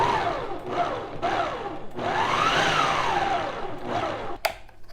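A kitchen blender pulses coconut cream for two-ingredient ice cream in several short whirring bursts, the motor pitch rising and falling with each pulse, loud and close, ending with a sharp clack.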